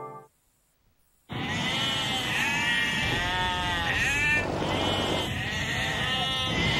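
A lamb bleats repeatedly in a TV commercial, several wavering, drawn-out cries in quick succession after a brief silence, loud and close with no speech over them.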